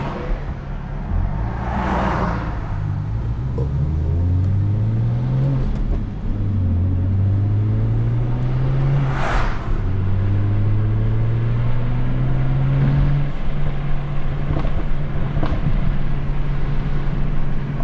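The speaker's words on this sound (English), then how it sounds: "this is a good time for me to learn how to handle this car when it's spinning" A 400hp manual BMW 335is accelerates hard through repeated gears. Loud rising engine revs climb, break at each shift and climb again, and the wheels spin over a steady road roar heard from inside the car, with no voices.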